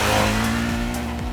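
A Ducati DesertX twin-cylinder motorcycle engine revs in a brief, loud, close burst, its steady droning tone shifting in pitch as it climbs.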